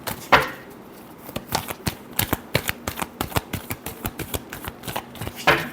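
A deck of tarot cards is shuffled by hand, producing a quick series of crisp riffling snaps in an uneven rhythm, close and fairly quiet, with a couple of brief soft voice sounds at the start and end.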